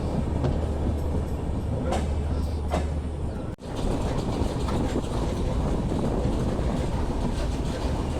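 A train rumbles steadily along the rails, arriving at Bir Shreshtha Sirajul Islam railway station in Panchagarh, with a constant roar and faint rhythmic clatter, briefly dipping once before resuming.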